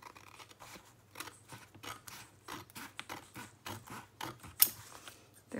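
Scissors trim fabric for a large storage pouch, giving a steady run of short, close crisp snips and rustles with one sharper clip near the end and no talking.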